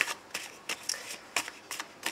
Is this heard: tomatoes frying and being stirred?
no